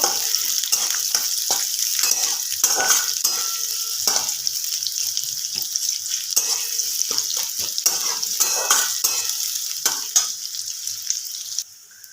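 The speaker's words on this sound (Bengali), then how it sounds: "পেঁয়াজটা একটু" Steady sizzle of chopped onions frying in a pan, broken by repeated scraping and knocking of a spatula as they are stirred, ending abruptly.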